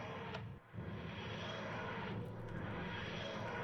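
A TARDIS landing in the Minecraft TARDIS Refined mod, a steady low roaring drone that holds throughout with a brief dip near the start, faint and without speech.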